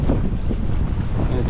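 Wind buffets a microphone outdoors on a fishing trip, a loud, continuous rushing roar with gusty low rumble throughout.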